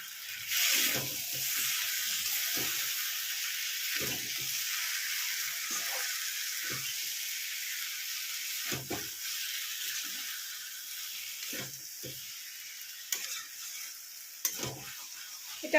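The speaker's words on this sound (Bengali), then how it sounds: "এটা আরেকটু ভালো করে কষিয়ে নিয়ে ফিরছি" Fish head and cabbage sautéing in a pan for a Bengali dalna, a steady close sizzle with repeated stirring scrapes of the spatula throughout, no talk.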